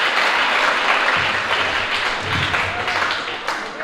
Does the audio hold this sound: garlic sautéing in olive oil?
no